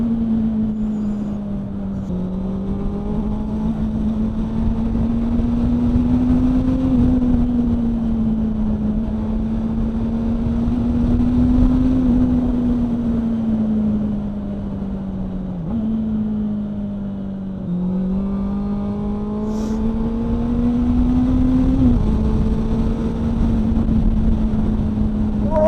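Motorbike engine droning steadily while riding, its pitch rising and falling with throttle changes and gear shifts, loud and close with wind noise.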